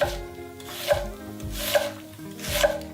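A knife cutting through an onion on a board, three or four evenly spaced chopping strokes with soft slicing rubs between them, close and clear.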